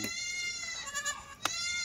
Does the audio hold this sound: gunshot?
no